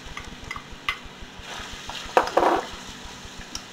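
Garlic, green pepper and celery sauté in a pan for a pork pie filling, with a soft steady sizzle, scraping stirs and a few louder clinks of a utensil against the pan.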